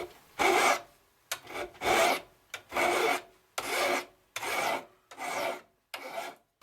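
A hand file sharpens the edge of a machete resting on a board, giving six close, rhythmic rasping strokes, each about half a second long and separated by short pauses.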